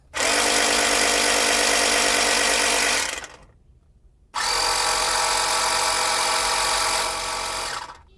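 Loud buzzing drone of a 2-in-1 car tyre inflator pumping air into a tyre, running steadily for about three seconds, stopping briefly, then starting again and running for several more seconds.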